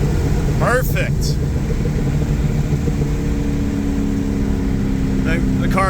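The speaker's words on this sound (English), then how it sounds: "You can hear the car is just engine braking right now." A 2004 Ford Mustang Cobra engine brakes on the road under deceleration fuel cutoff, giving a steady low rumbling drone heard from inside the car, with a voice talking over it.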